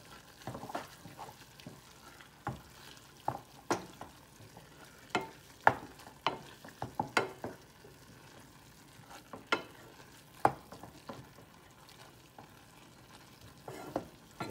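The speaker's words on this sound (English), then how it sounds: "Mix it all in. Cook it all together." American goulash being stirred and cooked in a pan, with repeated scraping strokes of a utensil over a steady low sizzle, close and moderately loud, no talking.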